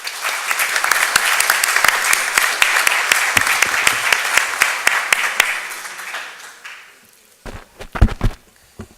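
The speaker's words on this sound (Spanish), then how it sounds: "Lo recibimos con fuertes palmas, por favor." Audience applause welcomes a speaker at an international arbitration congress: loud, dense clapping fills the hall for about seven seconds, then thins out and fades, ending in a few scattered, louder claps and thumps.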